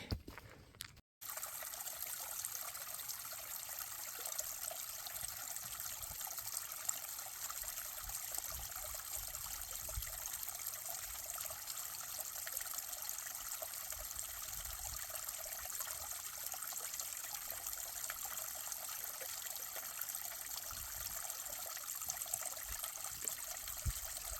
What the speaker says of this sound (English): I'm filtering water right now.